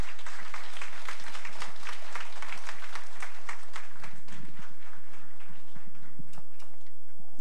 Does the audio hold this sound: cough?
no